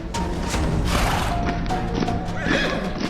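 A horse neighing loudly as a sound effect in a Hindi audiobook of the Sundarkand, with clip-clop hooves and dense crowd-like bustle continuing throughout, close and full.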